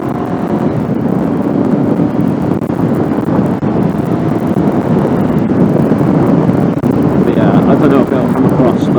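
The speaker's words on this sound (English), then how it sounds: "it seems to pretty much get rid of the wind noise" Steady roaring wind buffeting while riding a Honda VFR750 motorcycle at speed, loud and constant throughout with engine drone beneath.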